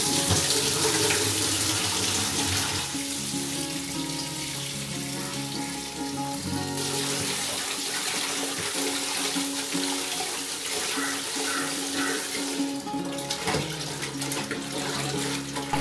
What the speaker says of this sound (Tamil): இதை 2 தடவை நிறைய தண்ணி ஊற்றி நல்லா க்ளீன் பண்ணி அலசி எடுத்துக்கணும்.